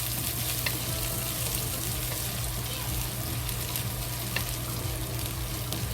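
Chili pepper frying in a hot wok for General Tso's chicken, a loud, steady close sizzle and crackle with occasional stirring scrapes, no talking.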